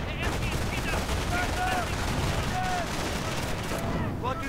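MG42 machine gun bursts in a World War II strategy video game battle, rapid rattling fire mixed with other gunshots and faint whistling tones, moderately quiet and continuous throughout.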